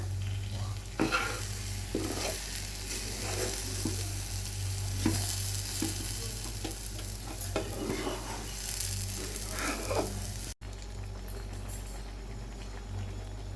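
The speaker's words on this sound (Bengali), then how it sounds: "সেটাই নেড়ে চেড়ে এই ডালের সাথে মিশে যাবে ঘিটা ডিমটা" Dal stirred in a pan with ghee and egg, a constant low sizzle beneath irregular scrapes and taps of the spoon, close and moderately loud, with a brief dropout near the end.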